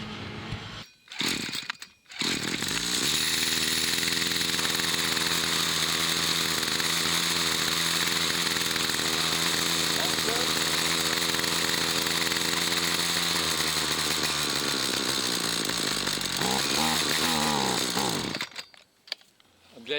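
A McCulloch string trimmer engine with starting and running problems runs steadily and loudly at high revs for about sixteen seconds, a continuous buzzing two-stroke drone after a few brief bursts at the start, cutting off near the end.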